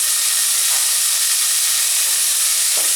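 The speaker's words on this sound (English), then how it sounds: "In goes the rinsed rice." Rinsed rice sizzling in about a tablespoon of olive oil in a saucepan over medium-low heat, a steady, close hiss that holds evenly throughout with a few faint clicks and no talking.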